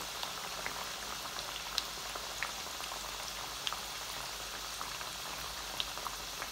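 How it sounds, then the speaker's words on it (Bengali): Tuna kebabs fry on medium heat, giving a constant, even bubbling hiss of oil at moderate distance with occasional faint pops and ticks, and no voices. "ফ্রাই করবা মিডিয়াম হিটে"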